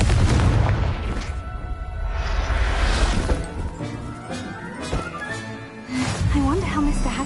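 Confringo blasting spell explosions in Hogwarts Legacy: repeated booming crashes and rumbling blasts that run continuously, mixed with game music and a voice speaking over the action.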